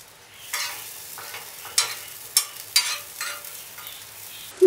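Butter sizzles on a hot dosa griddle (tawa) before toasting a sweet pineapple sandwich, a soft steady crackle broken by several sharp scraping or stirring bursts, close and moderately loud with no talking.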